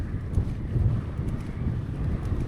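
Strong wind in a desert sandstorm in Algeria buffets the microphone with a constant low rumble and roar that swells slightly in gusts. The setting is a bikepacking trip, and no voice is heard.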